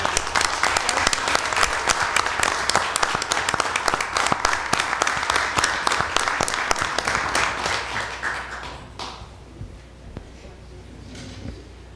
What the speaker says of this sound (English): Will the audience please join me in a round of applause